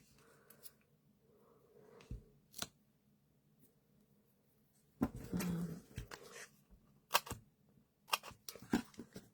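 Scissors cut a thin strip of cardstock for a handmade card, giving a few short, crisp snips and rustles near the mic between quiet gaps, with one denser burst of cutting midway.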